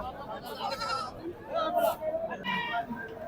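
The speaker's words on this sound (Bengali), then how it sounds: "এখানে প্রচুর পরিমাণে আসলে ছাগল আছে" Goats bleat in short, wavering cries amid the crowd noise of a livestock market in Bangladesh, several calls overlapping with nearby voices and background chatter.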